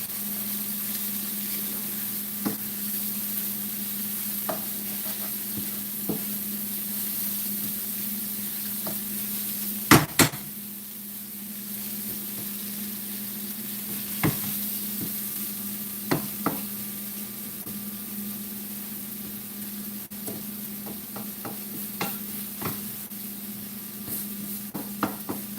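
Food being stirred in a pot set up for braised lamb shanks, a low steady sizzle beneath scattered utensil scrapes and taps against the pot, with one louder clank near the middle and no voices.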